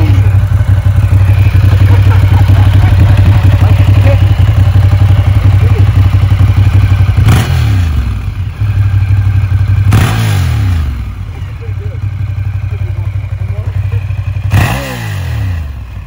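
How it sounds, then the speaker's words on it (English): A Monster 1200 motorcycle with a titanium full exhaust fires up and revs loudly several times, sharp throttle bursts rising and falling over a steady rumbling idle, close by. "Start her up. Give it some revs."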